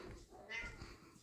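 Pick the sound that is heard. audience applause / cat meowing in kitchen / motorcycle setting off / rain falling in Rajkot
cat meowing in kitchen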